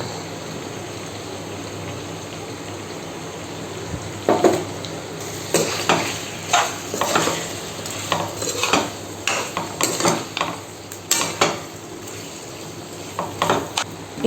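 A spoon repeatedly scrapes and stirs chicken fry tossed with chili powder in a sizzling pan, a string of close, sharp metallic strokes over a steady frying hiss.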